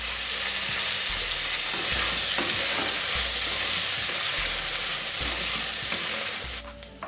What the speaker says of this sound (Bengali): কম আঁচে আলুগুলো ভেজে নেব।